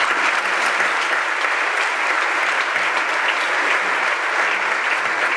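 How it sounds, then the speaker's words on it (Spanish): Audience applause at a video game industry award gala in Barcelona, a dense, steady clapping from a large crowd held at an even level throughout. "Pues nada, un aplauso para él."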